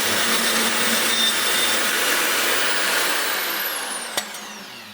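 Exhaust pipe being cut on a turbocharged Ford Fairmont, a steady, loud, close grinding-cutting noise running continuously and tapering off near the end, with a sharp click just before it stops.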